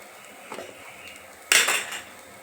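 Okra being stir-fried in a pan after chili powder goes in, with a light scrape at half a second and then a louder burst of spatula-on-pan clatter and scraping that fades over about half a second, no talk.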